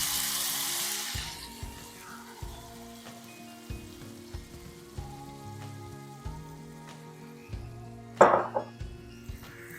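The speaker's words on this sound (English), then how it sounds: "After this, I am going to add the marinated chicken in it." Marinated chicken is added to a pot for chicken biryani: quiet clinks and low stirring sounds, then a sudden loud splash and sizzle as the meat goes in near the end.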